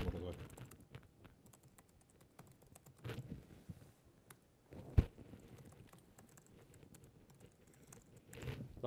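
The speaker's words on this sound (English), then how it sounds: "If my keyboard will work." Computer keyboard typing while creating an account on a secure registration form: quiet, irregular key clicks and taps with a few louder strikes, close and faint, under low room noise.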